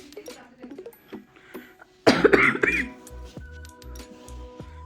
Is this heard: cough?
yes